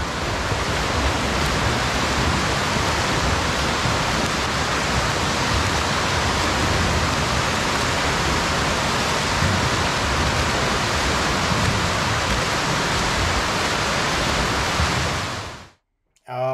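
Swimmers' hands strike the water of a pool during a timed stroke-rate drill, making a loud, continuous wash of splashing and churning water that stops abruptly near the end.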